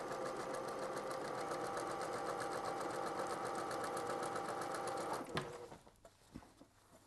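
A sewing machine stitches a rayon batik skirt in a steady, close, rapid whirring run for about five seconds, then stops, leaving a few faint handling clicks.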